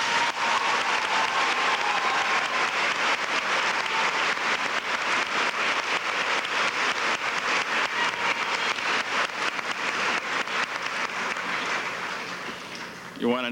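A large graduation crowd applauds the teachers with dense, loud, sustained clapping that holds steady for over ten seconds before thinning out toward the end.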